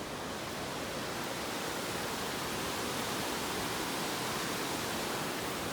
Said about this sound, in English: the top of a waterfall is never as fun as the bottom of a waterfall